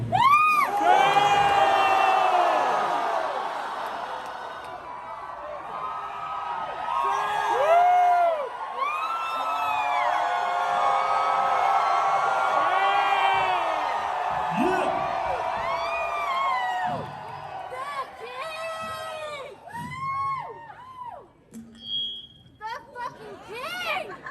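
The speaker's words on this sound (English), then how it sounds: "How about we yell Charles one more time?" Large crowd at a memorial benefit in a ballroom loudly yelling a name in unison and cheering, with whoops and shouts rising and falling over about twenty seconds before thinning into scattered cheers and a few voices.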